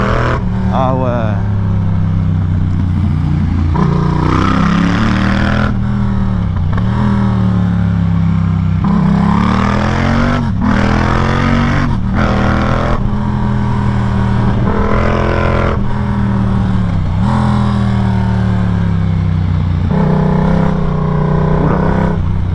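A Yamaha MT-07 motorcycle on worn tyres accelerates repeatedly through the gears on a rainy town street, its engine note rising and dropping in steady surges, loud and close throughout, with a rider talking over it at times.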